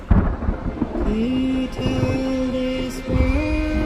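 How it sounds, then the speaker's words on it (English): Rolling thunder and steady rain in a dramatic film scene rumble loud and close for several seconds under sustained low musical tones. "I sense a storm looming over the Ohio territories."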